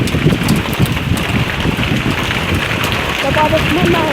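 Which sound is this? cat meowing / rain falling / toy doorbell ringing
rain falling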